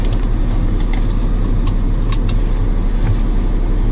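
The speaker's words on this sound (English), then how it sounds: "So start the car up" A car engine idles with a steady low rumble throughout, close and fairly loud, with a few faint clicks on top.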